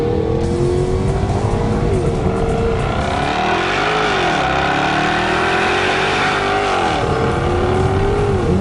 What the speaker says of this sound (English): One thing about this car, and any car like this with a big 5-litre supercharged V8 that you have to love, it's the noise.